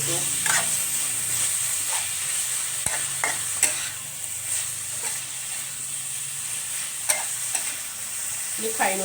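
Quail eggs stir-fried in a pan give a constant bright sizzle and hiss, broken by scattered scraping clicks of a utensil against the pan, close and steady.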